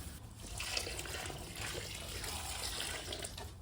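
Water is poured onto seed-starting soil for tomatoes, a continuous close trickle and splash that holds steady throughout with no talk over it.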